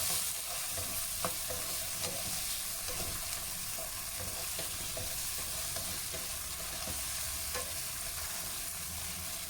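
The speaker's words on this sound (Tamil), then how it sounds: "சேர்த்து நல்லா மிக்ஸ் பண்ணிக்கலாம்" Salted tofu sambal cooking in a frying pan, giving a continuous soft sizzle with gentle, repeated scraping strokes of a spoon, quiet and close with no voices.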